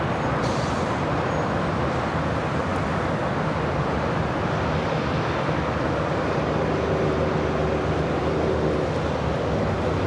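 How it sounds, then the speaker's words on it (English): A JetBlue Airbus A321 takes off from LAX, heard as a constant, loud, broadband engine roar that holds steady throughout with no speech. "JetBlue Airways Flight 324 taking off to JFK on the A321"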